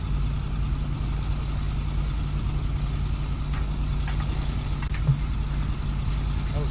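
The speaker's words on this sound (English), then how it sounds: "Yep, we'll just fill up our fuel tank with the engine running" A truck engine idles with a steady low rumble while it is refuelled in the icy video game Kona, with a few faint clicks and knocks over the continuous drone.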